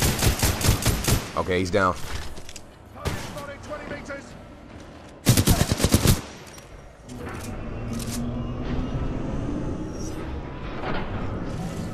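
Rapid bursts of automatic gunfire crackle in the Titanfall 2 video game, loud volleys clustered at the start and again near the middle, with a voice speaking over the fight and a steady rumble between shots.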